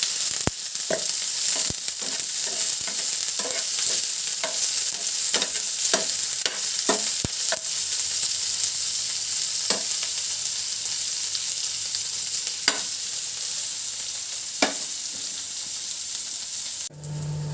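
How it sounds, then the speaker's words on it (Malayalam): Sliced onions and green chillies frying in a pan, a loud, steady sizzle throughout with frequent sharp ticks of a spatula stirring, heard close up. "നമ്മുടെ സവാളയും പച്ചമുളകും കൂടിയിട്ടുള്ളത് നല്ലോണം മൂത്തുണ്ട്"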